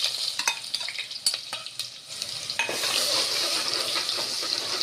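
Whole spices and ginger-garlic paste fry in a pan for a spicy chicken dish, with scattered stirring clinks giving way to a steady, loud sizzle once the paste goes in.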